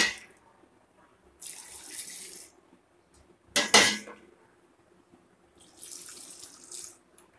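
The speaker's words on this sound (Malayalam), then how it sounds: "ഞാൻ ഈ വെള്ളം ഇതിലേക്ക് ഒഴിച്ചു കൊടുക്കുകയാണ്" Water poured into a jar of ambazhanga (hog plum) pickle comes in three short splashing bursts with quiet gaps between them, the middle burst the sharpest and loudest.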